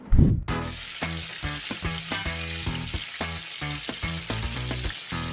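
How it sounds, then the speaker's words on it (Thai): Shallots sizzling in hot oil over low heat while being stirred, a steady close crackle broken by repeated scraping strokes of a utensil against the pan. "ค่อยๆ ผัดให้มันนุ่ม ผัดไปเรื่อยๆ ก่อนให้มันหอมด้วย"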